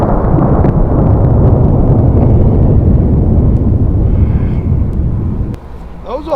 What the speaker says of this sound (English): let's see what happens when we hit him with some Jolly Ranchers out of the canned cannon